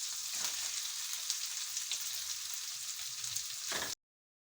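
Onions frying in a pan for a chicken bread roll filling, a steady broad sizzle held at even loudness for about four seconds before cutting to silence, no voices.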